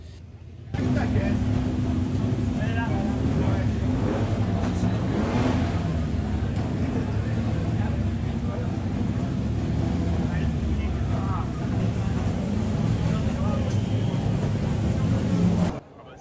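Historic Ferrari racing cars driving past at the Grand Prix Historique de Monaco, a steady loud engine roar that holds for about fifteen seconds with little letup, starting and ending abruptly.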